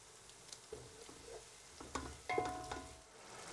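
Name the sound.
onions frying in a pan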